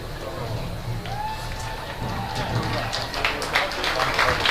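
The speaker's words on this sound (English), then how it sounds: "How about one more round of applause for the Westminster Titan Marching Band" Audience applause and cheering for the Westminster Titan Marching Band at the Lawrence County Band Festival, a steady crowd wash that swells louder toward the end, with faint voices and tonal sounds mixed in.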